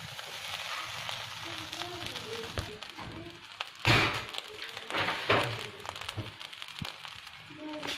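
Fried rice sizzles in a hot pan while being mixed, a steady crackling fry broken by a couple of louder scraping clatters from the spatula.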